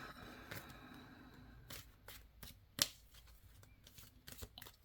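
Tarot cards are shuffled by hand in short crisp bursts of riffling and slapping, close up and intermittent over a quiet background.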